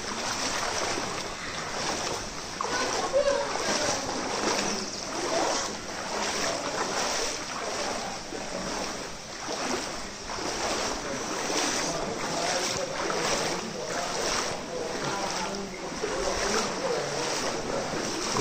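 Water sloshes and splashes in a steady rhythm of footsteps wading through a cold stream in Robber's Cave, Dehradun, echoing slightly, with occasional faint voices.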